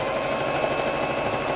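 A sewing machine stitches a jacket in a short, steady, close mechanical whir with a fast even needle clatter and no voices.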